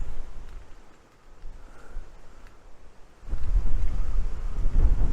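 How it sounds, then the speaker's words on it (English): Strong wind blowing outdoors buffets the microphone with low, rumbling gusts, moderate at first, easing briefly, then surging louder and rougher toward the end. "It's windy as hell today."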